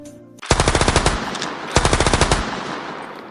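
Machine gun fire in a battle scene from an Awadhi-language film, two loud rapid bursts of about a dozen shots each, close and sharp, separated by a short pause.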